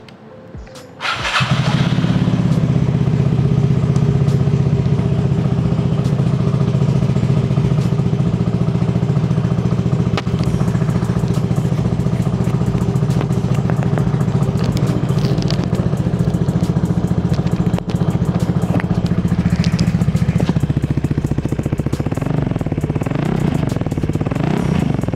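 A stock-engine Vespa LXV 150 scooter starts and then idles steadily for a long stretch, a low, rounded, bassy hum heard close up with no talking.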